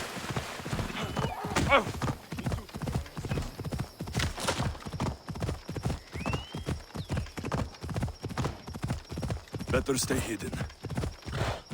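Horse hooves gallop in a fast, steady clip-clop rhythm throughout, with a brief whinny, in the Assassin's Creed Odyssey video game set in ancient Greece; a voice speaks briefly over the hoofbeats.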